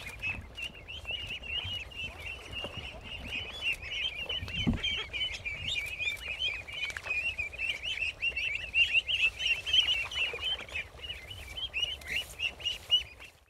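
A crowded flock of farm ducks calls continuously with dense, overlapping chatter as they are gathered and placed into a crate, with occasional thumps of handling nearby and no talking.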